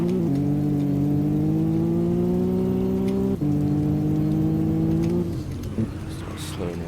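A Maserati MC20 engine drones loudly under hard acceleration during a handling test, its pitch climbing steadily, dipping at a gear change, then rising again before the note drops away, with a voice briefly over it.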